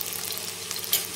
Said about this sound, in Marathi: आता आपण याला तेलामध्ये थोडेसे फ्राय करून घेणार आहे।